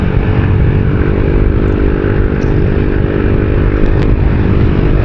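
An Easyride 150P fuel-injected motorcycle holds about 6,000 RPM, giving a loud, steady engine drone with a buzzing harmonic tone. It stays close and constant throughout, with no talking over it.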